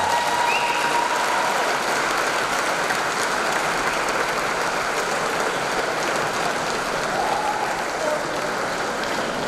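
An audience at a community awards ceremony applauds steadily, a dense, continuous wash of clapping that holds evenly for several seconds, with faint voices mixed in.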